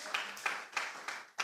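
A church congregation claps together in a steady rhythm, five firm, evenly spaced claps about a third of a second apart, fairly close, with a soft room wash between beats.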